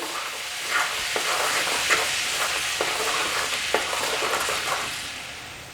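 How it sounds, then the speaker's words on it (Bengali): White cumin, cardamom and cinnamon fry in butter with a constant bright sizzle, while a spatula scrapes and taps the pan several times. "সেই সাদা জিরে, এলাচ আর দারচিনিটাকে আমি এই বাটারের মধ্যে দিয়ে দিলাম। এবার একটু স্প্যাচুলা দিয়ে নেড়েচেড়ে দিচ্ছি।"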